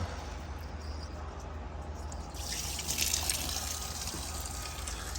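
Coolant drains from the radiator drain of a 2010 Mazda CX-9, a steady faint trickle that swells into a brighter splashing stream partway through, heard close under a low background hum, with no talking.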